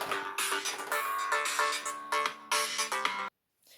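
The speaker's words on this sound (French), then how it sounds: "mon téléphone a sonné, je devais prendre" A phone ringtone plays nearby as a bright, melodic electronic tune in repeated phrases, then cuts off abruptly into silence.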